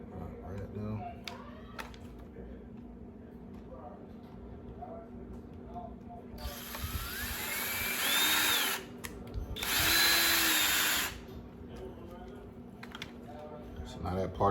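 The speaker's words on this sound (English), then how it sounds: "the only reason why I'm drilling this down right now" Two short bursts of a power drill whirring loudly while drilling into a Chevy truck center console, separated by a brief pause, over a quiet background hum.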